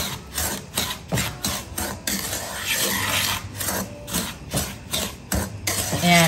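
A spoon or spatula scrapes and rubs repeatedly through stuffing ingredients toasting in a pan, the steady rasping strokes close and fairly loud with no talk.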